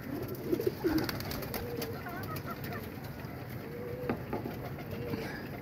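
Pigeons cooing nearby, soft low repeated coos over a faint outdoor background.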